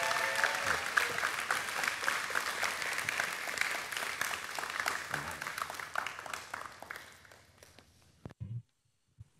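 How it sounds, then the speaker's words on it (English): An audience at a church baptism testimony gives a warm round of applause for Chow, sustained dense clapping that tapers off near the end, followed by a couple of brief knocks. "So can we give Chow a big round of applause as she comes to share with us?"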